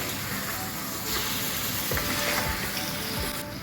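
Pieces of salmon fish head are stirred into a curry gravy in a hot pan, giving a steady sizzle with a few soft scrapes and stirring thuds.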